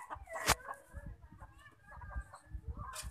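Backyard chickens cluck in short, close bursts, with a sharp louder squawk near the start. Faint background noise sits under them.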